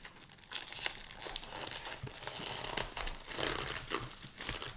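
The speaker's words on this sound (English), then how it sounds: "pull the plastic off of this" Plastic wrapping is peeled off a First Response pregnancy test box in a quiet, close series of crinkles and small tearing rustles, irregular and faint, with no talk.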